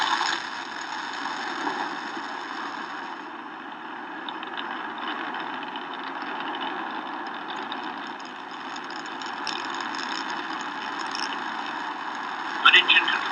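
Rocket engines of the Orion spacecraft on its dawn launch roar steadily as a broad, continuous rumble for the whole stretch, heard from a distance with no pauses and a few sharp crackles near the end.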